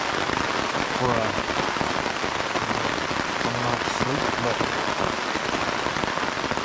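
Rain drums steadily on a camping tarp at night, a dense close patter that stays loud throughout while someone talks quietly over it.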